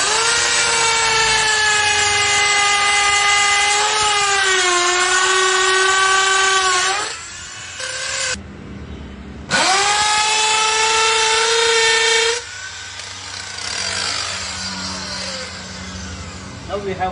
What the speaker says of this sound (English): Now I am going to drill the wall with the concrete bit.